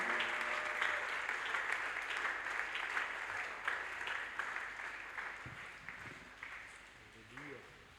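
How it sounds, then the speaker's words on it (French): Church congregation clapping steadily for the Lord during a fasting and prayer service, a dense sustained wash of applause that thins toward the end, with voices mixed in. "Continuez d'acclamer fortement pour le Seigneur."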